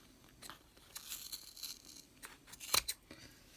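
Quick snips of scissors trimming the edges of a yarn pom-pom, several close, crisp cuts scattered through a quiet room with one louder cluster near the end.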